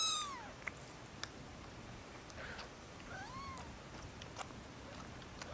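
Cat Maggie meowing during the birth of her kittens, a few faint, drawn-out rising and falling cries with little squeaks and clicks against a quiet background.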